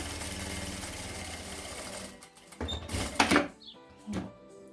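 A sewing machine stitches a fabric wallet, running in a fast steady mechanical whir for about two seconds, then stopping, followed by a few short handling clicks and bursts as the work is adjusted.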